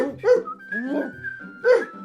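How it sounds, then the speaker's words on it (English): Two fluffy wolfhounds bark and yip twice in quick bursts, close by, with a whining, drawn-out tone between the barks. "2 fluffy wolfhounds barking."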